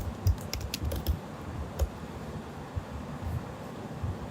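Typing code on a computer keyboard, irregular clusters of close, crisp key clicks over a low steady background rumble, no speech.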